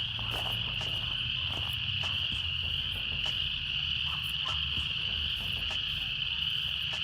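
Frogs and insects call in a park meadow, a dense, continuous shrill chirring with faint croaks and clicks underneath, steady and moderately distant with no voices.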